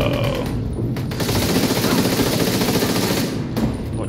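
An F2000 assault rifle fires in The Division 2 in loud, rapid sustained bursts, the automatic fire broken by brief pauses between strings of shots.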